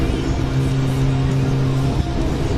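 Engine of a Kawasaki ZX-10 motorcycle running steadily with a deep, droning tone, close and loud, a small jolt near the end and no talking.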